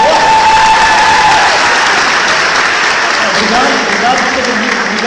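A comedy show crowd in Apucarana applauds loudly and continuously, with some cheering and a voice briefly audible over the dense clapping, which stays strong throughout.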